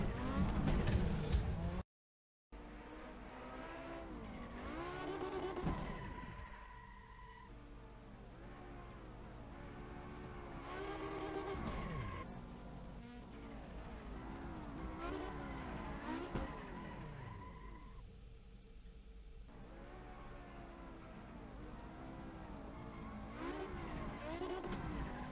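A race car laps a track in a sim racing game, its engine rising and falling through gear changes with occasional tyre squeal, a steady loud drone after a brief dropout near the start.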